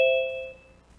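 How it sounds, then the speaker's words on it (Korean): A single electronic ding-dong chime rings out during an online talk, two bright tones sounding together and then fading away within about a second, fairly clear with no voices over it. "딩동댕 소리가 계속 나네요."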